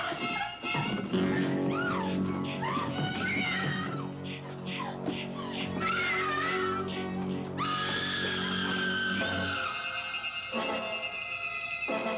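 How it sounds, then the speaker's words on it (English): A woman screams in abject terror in a horror film, a sustained high wailing scream that rises and breaks over a dense, loud soundtrack across the whole stretch. "a woman screaming in abject terror"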